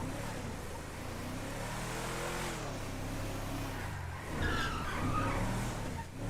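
A Ram truck in GTA 5 drives with a steady engine drone, then breaks into a tire skid partway through, rendered as game audio at moderate level without talk.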